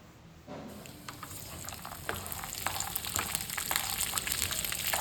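Peanuts frying in oil in a pan for thecha bhadang, a steady sizzle and crackle that starts after a brief quiet and grows gradually louder, with occasional stirring scrapes and no voices.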